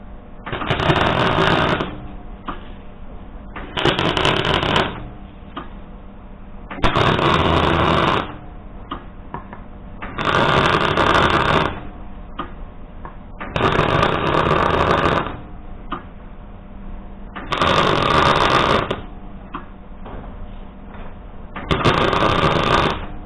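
A MIG welder tack-welds studs onto the rear bumper of an old Ford 4x4 diesel Bronco build, seven short crackling bursts of a second or so each, spaced evenly with quiet gaps between, no talking.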